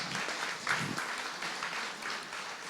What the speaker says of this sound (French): On peut applaudir, merci.